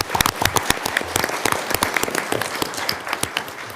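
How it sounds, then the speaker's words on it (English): Applause from the audience at a county board of commissioners meeting, honoring the DWI task force. The clapping is dense, steady and close, filling the short moment with no voices over it. "give these guys a round of applause because they deserve it"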